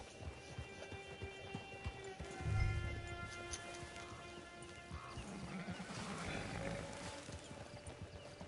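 Horse hooves clip-clop steadily on the ground in the Red Dead Redemption 2 video game, with a snort or whinny and a low thump partway through, amid soft ambient outdoor background.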